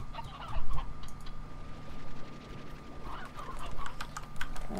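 Chickens clucking in the farming video game Slime Rancher, a steady murmur of soft clucks and fowl calls at moderate level, with a constant low in-game hum underneath and no talking.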